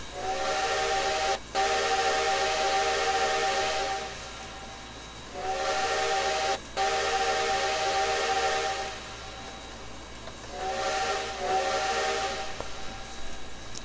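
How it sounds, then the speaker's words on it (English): Three long blasts sound from a CN S1b 2-8-2 steam locomotive's whistle in Trainz 2019, loud and chime-like over steady steam hiss, each with a brief pop partway through. "Whistle."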